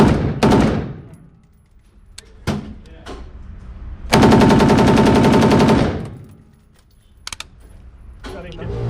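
A P90 fired at a Las Vegas shooting range, a fast rapid-fire burst of loud, close shots between sharper single cracks and handling clatter, with brief talk in the gaps.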